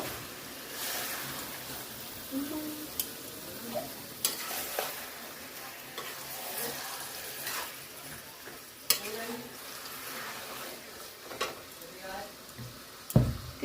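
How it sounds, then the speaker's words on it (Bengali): Chicken sautéing in a pan sizzles steadily while a spoon stirs it, producing recurring scrapes and occasional sharp clinks against the pan, close by, with quiet voices now and then in the background. "চিকেনটাকে ভালো করে এবার কষিয়ে নেব।"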